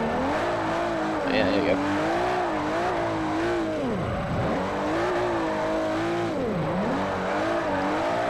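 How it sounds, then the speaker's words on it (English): Engine revving with sweeping pitch swings as a car drifts and spins out in the Forza 4 racing game, steady and loud throughout under a man's speech. "as you can see, we're drifting, and of course, spun out"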